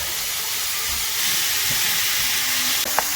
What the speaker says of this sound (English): Make a little hole and then ground burger in. Brown that hamburger.